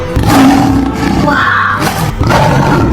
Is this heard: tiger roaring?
yes